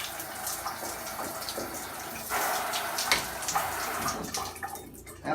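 Shower water runs steadily from a Price Pfister two-handle shower valve, a close, broadband hiss whose strength shifts slightly as the flow is adjusted, with no voices.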